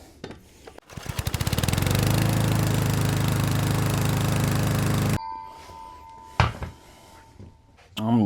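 A table saw cuts across wood for a chess board and pieces, a loud steady whine and rumble lasting about four seconds, then the blade spins down and a few knocks and clatters follow.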